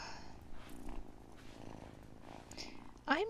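Cat purring in the video game Wylde Flower, a soft continuous low rumble close up, ending with a short higher meow-like chirp.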